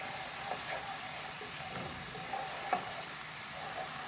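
Garlic hitting a hot pan with shrimp and lobster sizzles in a continuous close hiss, with a few soft scrapes and taps of stirring scattered through and no talking.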